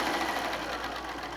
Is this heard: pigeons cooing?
no